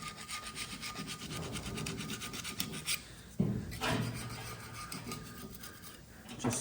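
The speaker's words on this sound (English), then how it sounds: "So I've just got a little scraper here, which I'm just gonna work around." A small hand scraper works around an Allis B tractor, removing old sealant and paint in repeated close rasping strokes with brief pauses and a sharp knock partway through.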